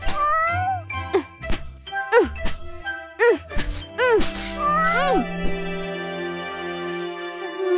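A cartoon cat meowing several times in quick succession over light jingling music, clear and close, with bright rising and falling cries.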